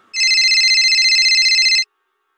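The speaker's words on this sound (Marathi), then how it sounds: "तहसीलदार साहेबांचा फोन आहे." A telephone rings loudly and alone in a single continuous electronic trill of about one and a half seconds, with a steady rapid warble, in a household scene from a Marathi TV drama.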